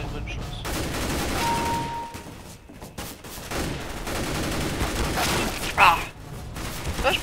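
Gunfire in Counter-Strike: Global Offensive, rapid shots and bursts under the player talking throughout, with a sharper report near the end.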